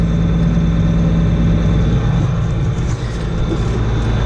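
A tractor engine drones steadily as it pulls an unfolded field cultivator straight behind it across a field. The engine runs loud and close with a constant low hum and only a slight dip in level partway through.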